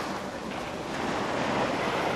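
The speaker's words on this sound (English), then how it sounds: "but I can still hear the ocean" Ocean surf rolls onto a beach at night, a constant broad wash of breaking waves with some wind rumble on the microphone, steady and unbroken, no voices.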